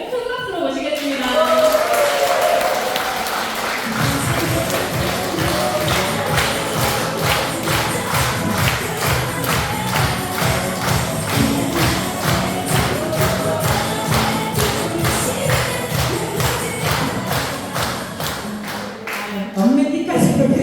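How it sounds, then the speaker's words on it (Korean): Audience applause at an indoor talk event as the Seongnam regional head is welcomed to the stage; dense, sustained clapping with a rhythmic pulse runs for most of the span, mixed with crowd voices. "성남 본부장님 김기현 크라님을 큰 박수로 모시겠습니다"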